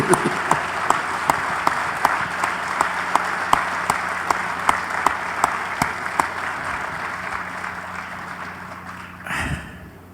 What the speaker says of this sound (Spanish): Wow, un aplauso, ¿no? A Cárdenas y a él.